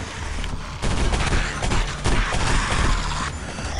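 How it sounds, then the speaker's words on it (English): Gunfire in the shooter game Area 51, loud rapid bursts of shots and mechanical weapon clatter close up, dense and continuous over the few seconds. "Thought I just shot you in the face."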